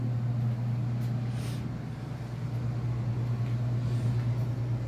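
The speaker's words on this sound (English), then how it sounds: "it's just the washer and dryer" A washer and dryer running together in a home laundry room, a steady low hum and rumble filling the background throughout with no talking.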